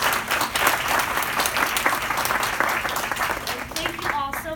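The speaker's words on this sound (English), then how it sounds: "So one more round of applause, please." Sustained applause from an audience at a coastal resiliency forum on Long Island, loud and dense throughout, with a voice beginning to speak near the end.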